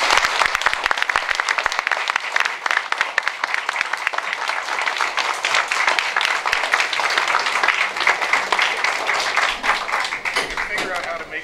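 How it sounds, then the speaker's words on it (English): Loud, sustained audience applause fills a candidates meeting hall, dense clapping continuing steadily throughout with no pause. "I'd ask you to join me with an applause and thanks."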